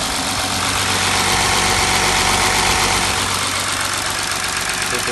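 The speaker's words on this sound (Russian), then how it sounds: "Мотор тут вообще отлично работает." An Audi A4 Allroad engine idles steadily up close, a loud even rumble with a continuous mechanical hum and no change in pace.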